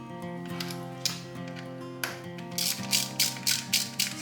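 A hand ratchet clicks in quick bursts, snugging quarter-inch screws into aluminum on a motorcycle, close and clear, with short rapid pawl rattles separated by brief pauses.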